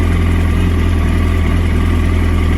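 Yamaha R sport motorcycle engine running close by with a steady throbbing idle and slight rising revs, loud and continuous with no voices.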